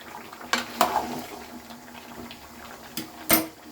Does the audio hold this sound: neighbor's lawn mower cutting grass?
no